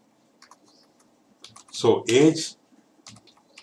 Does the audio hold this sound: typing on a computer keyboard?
yes